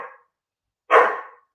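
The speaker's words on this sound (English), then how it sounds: "That's our dog. That's our dog, Sean." A pet dog barks while playing and trying to get an older dog to join in: a short clipped bark trails off, then one loud, close bark follows after a brief silence.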